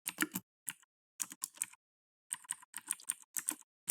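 Bursts of computer keyboard typing while code is written, clusters of quick key clicks separated by short pauses, close and clear with no voices.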